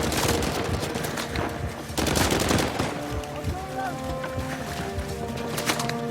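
Rapid enemy gunfire in Uncharted 4, bursts of automatic weapons crackling close and continuous throughout, with a heavy dense volley in the middle.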